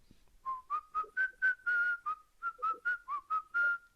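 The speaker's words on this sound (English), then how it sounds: "If I just whistle to you like this" A person whistles a short melodic tune unamplified, with no microphone or sound system, in a quiet room: about a dozen clear, distinct notes, some held longer, close and moderately soft.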